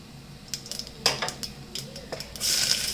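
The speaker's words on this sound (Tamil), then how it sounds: "இப்போ எண்ணெய் வந்து கொஞ்சமாக ஆட் பண்ணிவிட்டு கடுகு, சீரகம், சோம்பு இது மூணும் வந்துட்டு ஆட் பண்ணிக்க போகிறேன்." Mustard, cumin and fennel seeds going into hot sesame oil in a pan, with metal spoon clinks and scrapes and a rising crackling sizzle toward the end, close with no talk.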